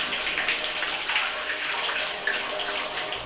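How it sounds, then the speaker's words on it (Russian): Water runs from a tap into a tank for a rice mash, a steady, full rushing splash that stays close and even throughout, with no voices. "Открываем воду."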